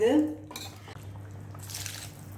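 A metal lid clanks onto a cooking pot in a kitchen, with a bright clatter at first and then softer scraping and settling over a low steady hum.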